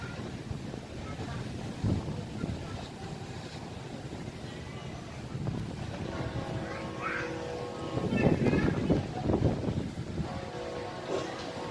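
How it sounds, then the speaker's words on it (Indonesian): Strong, nearly westerly wind sweeps Merak harbour on a clear, sunny day with a running swell. It roars steadily and buffets the microphone, with gusts swelling toward the end over faint boat and harbour tones. "Cuaca cerah tapi angin kencang."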